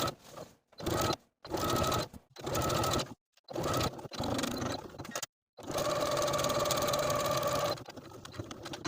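A home sewing machine runs in several short bursts and then one long steady run while top stitching around a folded jacket cuff, with brief silent pauses between the first passes.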